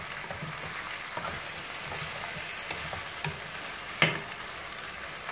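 Spiced chicken is stirred in a pan, giving a soft, continuous sizzle with light scraping of the spoon and one sharper clatter near the end.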